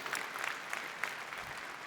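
A keynote audience applauds, a faint, steady patter of many hands clapping at a distance for a couple of seconds.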